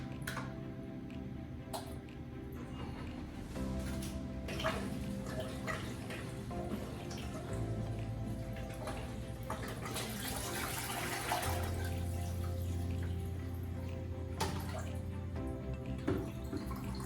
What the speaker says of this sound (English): I will do a water change on my 180-gallon saltwater aquarium with the C90.